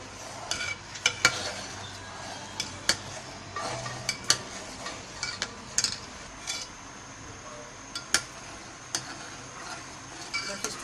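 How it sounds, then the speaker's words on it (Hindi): A spoon stirring milk in a pot while making kulfi, heard as repeated light metallic scrapes and clinks against the pot at an unhurried, irregular pace, close by and moderately quiet. "इसी तरह आहिस्ता आहिस्ता हमें चमचे हिलाते रहना है, ताकि ये थोड़ा ठीक हो जाए दूध।"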